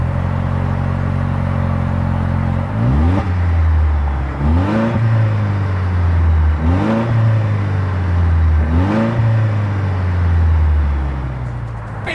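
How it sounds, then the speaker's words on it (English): A 2026 Toyota Land Cruiser's exhaust idles steadily, then rises in four evenly spaced revs, each swelling and falling back to a deep burble, loud and close with no voices. "As always, here is that exhaust clip."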